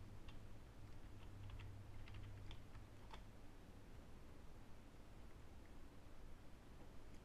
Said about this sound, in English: Alright, put your password in.